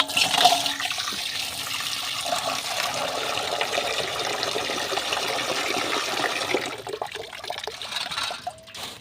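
Water used to wash two kilos of rock fish pours out in a steady, rushing splash for about eight seconds, loud and close, tapering slightly at the end, with no talking.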